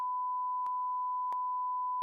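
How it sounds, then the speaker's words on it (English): A continuous high-pitched censor bleep tone holds steady for about two seconds, interrupted by two brief clicks, then cuts off as a burst of speech breaks in at the end. "You guys just heard a lot of beeps."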